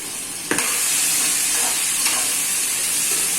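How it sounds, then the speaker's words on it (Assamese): Chicken pieces with ginger, garlic, salt and chilli sizzle steadily in a hot pan. A couple of brief scraping stirs stand out against the constant close frying hiss. "মিলাই লওঁ ভালদৰে আদা নহৰু নিমখ জলকীয়া চুলি দিলোঁ সকলোবোৰ মাংসৰ লগত।"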